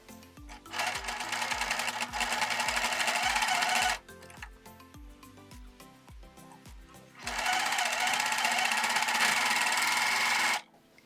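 A serger sews the edges of pleated fabric face masks in two long, fast, steady bursts of mechanical whirring and clatter, separated by a short pause, heard close up.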